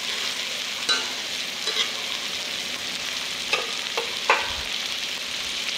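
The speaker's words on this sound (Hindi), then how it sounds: "और रखने से पहले थोड़ा अच्छे से फ्राई कर लेते हैं ताकि उसके मसाले जो हैं वो अच्छे से" Chicken coated in masala fries in hot oil while being stirred, giving a constant close sizzle with a few scraping clicks from the spoon and no voices.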